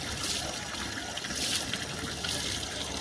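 Water runs and trickles steadily on a rooftop, a close, continuous splashing wash that holds without a break.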